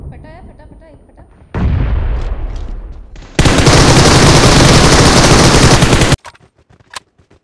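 Video game explosions and gunfire erupt in two dense bursts, a loud rattling volley followed by an even louder sustained blast, with quieter game sounds and scattered pops before and after.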